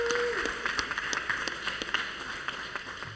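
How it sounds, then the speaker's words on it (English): An audience at a community listening session applauds its champions, a thin scattered patter of claps at moderate distance, fairly faint and irregular, with some voices underneath. "Can we give a round of applause to these champions?"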